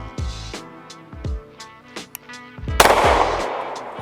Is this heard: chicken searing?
no